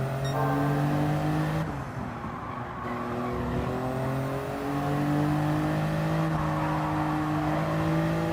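Race car engine in Gran Turismo 7, a Toyota Yaris at racing speed, revving loud and steady with pitch falling under braking and a brief lift through a corner before climbing again, tire noise underneath.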